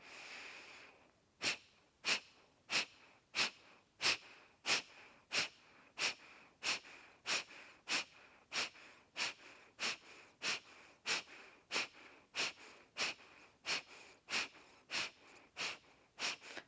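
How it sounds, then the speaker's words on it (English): Sharp forced exhales in a yoga breathing exercise, pushed out by contracting the abdomen, come about twenty-five times in a steady brisk rhythm. Each one is a short, close puff of air, and there is no speech. "sharp exhale, contracting through the abdomen to force the exhale out"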